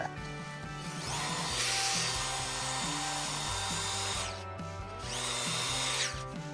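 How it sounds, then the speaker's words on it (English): Power drill boring peg holes into a wooden joinery frame with an auger bit, a close whining motor in two sustained bursts with a short pause between, no voices. "pegs on the back of here, I'm just drilling them in the centre so it guides the auger bit."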